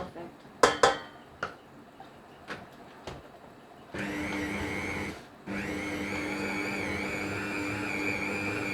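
Birthday cake cookie dough mixed in a bowl by an electric mixer, a steady loud whir running continuously after a few sharp clatters and knocks, with a brief pause midway before the motor resumes.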